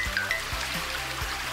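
Cartoon water pours steadily to fill a bathtub, a soft continuous trickling stream heard alone and fairly close, with a few faint low tonal blips from the cartoon soundtrack beneath.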